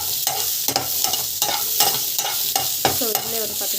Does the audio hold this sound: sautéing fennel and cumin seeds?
yes